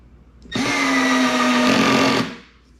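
A Milwaukee M12 cordless screwdriver drives a screw through a Simpson tie connector into hickory, one steady close motor whine lasting under two seconds before cutting off.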